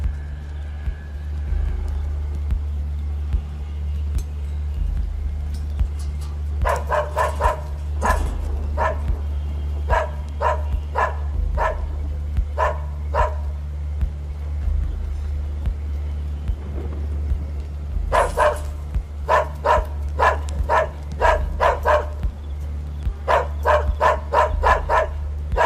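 Dogs in Mumbai bark in quick repeated bursts, a cluster midway and more toward the end, heard over a constant low rumble of traffic.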